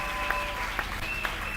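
A church congregation claps loudly in praise of the Lord, a dense, continuous wash of hands, with a few sharper claps standing out at regular intervals. No speech rises above it.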